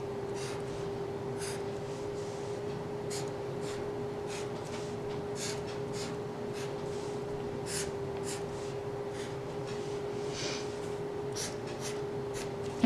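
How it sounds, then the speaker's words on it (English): A pen scratches big triangles across paper for a Zentangle background, a soft continuous rasp broken by repeated stroke accents at a steady pace, close and fairly quiet over a faint steady hum. "I'm going to draw some big triangles in the background"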